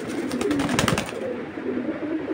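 Pigeons coo in a close, repeated run of soft throaty calls that fade out toward the end, with no talking over them.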